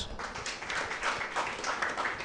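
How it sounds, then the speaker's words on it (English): An audience applauds at a university law faculty's Dean's Award ceremony, giving a steady, dense wash of clapping from many hands throughout. "give her big claps"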